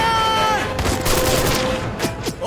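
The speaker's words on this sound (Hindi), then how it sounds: "ओए गोली चला रहे हैं ये लोग तो" Gunfire in an action movie scene during a jail break, a rapid burst of shots and impacts mixed with crashing effects and background score, loud and close.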